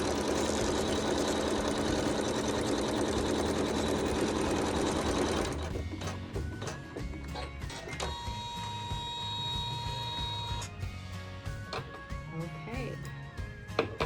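A sewing machine stitches a fabric seam during quilt appliqué work, its steady rapid whir running loud and continuous for about five seconds before stopping, followed by quieter handling sounds and faint mechanical clicks.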